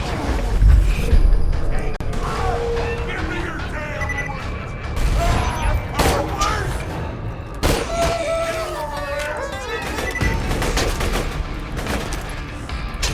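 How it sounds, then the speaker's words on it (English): In Borderlands 2, a grenade blows up in the Sawtooth Cauldron amid bursts of rapid gunfire and heavy booms, with several sharp blasts and crashes, and a voice talks over the fighting. "Here, grenade."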